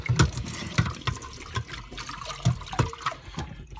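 Running water rinses the gasket of a Dyson DC41 vacuum: uneven splashing and gushing with repeated bursts as the part is moved under the stream, close by and with no talk.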